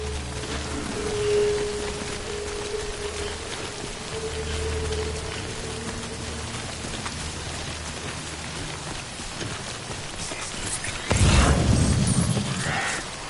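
Steady rain falls in the video game Death Stranding, a dense even hiss running through the whole stretch, with a heavier low burst near the end.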